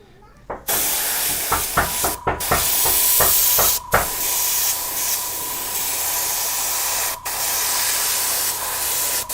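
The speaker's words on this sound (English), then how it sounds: "the airbrush is very fine with the mist" An airbrush sprays a fine mist of paint onto a Jordan 3 sneaker midsole during a repaint, giving a loud, steady close-up hiss that runs almost the whole time, with brief gaps and a few faint taps early on.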